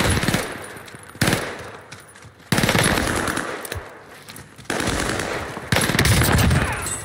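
A Vargo S assault rifle fires in a battle royale video game in loud, sharp automatic bursts, four or five volleys separated by short pauses, each burst ringing out close and dense.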